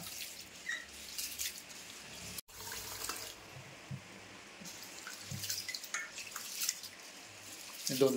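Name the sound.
washing rice in water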